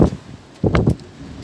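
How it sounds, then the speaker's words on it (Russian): Strong storm wind hits plastic sheeting on construction scaffolding, making brief, close bursts of flapping and rustling over a steady windy background. "Залива сильный ветер в клочья рвет."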